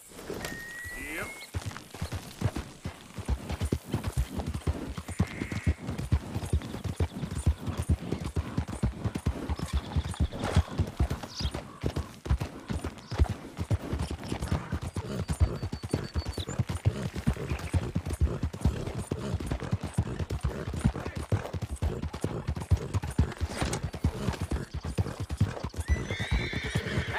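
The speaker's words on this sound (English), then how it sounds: "That's a nice-looking horse you have there." Horse hooves clip-clop steadily in Red Dead Redemption 2, a continuous rapid walking rhythm up close with occasional whinnies and snorts, with game dialogue voices talking over parts of it.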